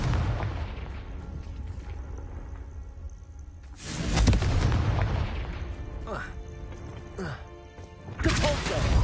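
Heavy booming blasts from a Confringo fire spell in Hogwarts Legacy, a loud burst near the middle and another at the end, with crackling and rumble between and a voice shouting.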